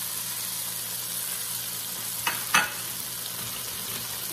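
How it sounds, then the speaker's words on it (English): Onions and garlic going into a hot pot beside a browned rump roast, a steady sizzle with a couple of brief clatters as they drop in, no talking. "We're gonna put our onions back in and garlic."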